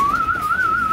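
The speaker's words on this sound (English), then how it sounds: "try and train them to the whistle a bit better whilst they're still inside the loft" A single sustained whistle with a gently wavering pitch, of the kind used to train pigeons inside a loft, sounds close and clear for about a second with no voices.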